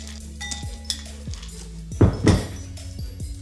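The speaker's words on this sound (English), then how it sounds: "we're gonna go ahead and put a few ice cubes into our glass" Ice cubes clink and clatter into a glass, a few light knocks followed by a louder rattling tumble, then quieter taps.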